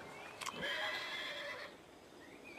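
A horse whinnies loudly and close, a drawn-out neigh with a short snort at its start, followed by quieter breathy sounds as it fades.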